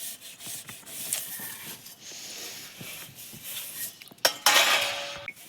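Metal dishes being scrubbed by hand at a quick pace, a steady rasping rub with occasional clinks of pots and utensils, close up, louder scraping toward the end, no talk.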